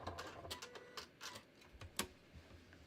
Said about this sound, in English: I'm just going to stitch through the ribbon down to the hem